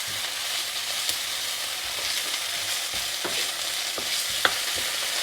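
Fermented food frying in a pan for a Thai vegetarian dish, with a steady crackling sizzle and occasional sharp scrape clicks as it is stirred, close and continuous with no talk.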